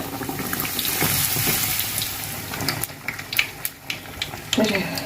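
Belyashi meat pastries fry in plenty of oil in a wide pot, giving a steady sizzle and crackle with louder pops and bursts of spatter toward the end.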